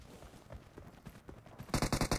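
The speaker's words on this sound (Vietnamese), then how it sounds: "Còn tiếng súng." Gunfire in the PUBG Mobile battle royale game, a quick burst of about six rapid shots near the end, loud and close after a stretch of quiet game ambience.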